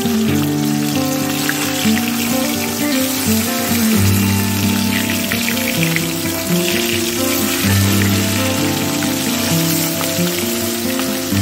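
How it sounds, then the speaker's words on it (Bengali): Bhola fish pieces frying on high flame, two at a time, giving a steady, dense sizzle and crackle throughout, loud and close with no talk, alongside a continuous low tonal hum. "আমি হাই ফ্লেমেই মাছটা ভেজে নিচ্ছি।"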